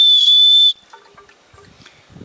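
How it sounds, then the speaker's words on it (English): One loud, piercing blast from a survival whistle on a Light My Fire Scout 2.0 firesteel holds steady for under a second, then cuts off to quiet fumbling sounds. "It even has a little survival whistle."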